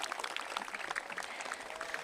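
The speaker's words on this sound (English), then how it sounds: "Everyone give yourselves a round of applause." Audience clapping at a Toronto press event with sports club members and youth, a quiet, steady patter of many hands lasting a couple of seconds, somewhat distant.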